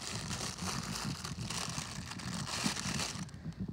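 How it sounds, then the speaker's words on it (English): Plastic crinkles and rustles continuously as it is handled close up, crackly and uneven, with no talking. "Another plastic bag."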